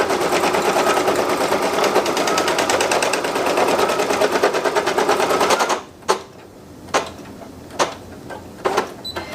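An embroidery machine running its placement stitch, a fast, steady mechanical rattle of stitching for several seconds that then stops, followed by a few separate sharp clicks and knocks, close and loud with no speech.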